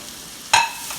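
Onions hit hot oil in a pan with a sudden loud sizzle that bursts out midway through a quiet moment and keeps hissing steadily afterward.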